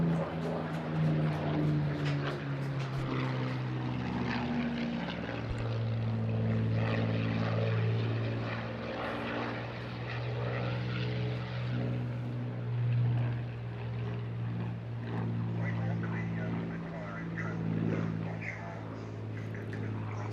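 Propeller-driven aircraft roaring past at a seaside airshow, a loud sustained engine drone with steady low harmonics that swells and ebbs over twenty seconds, close and continuous.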